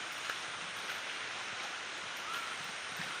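Steady rain falling in Tamulpur, Assam during the monsoon season, a soft continuous hiss with no distinct drops, fairly faint and heard alone without voices.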